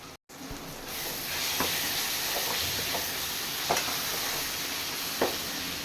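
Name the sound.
sautéing onion and tomato with ginger garlic paste in a pan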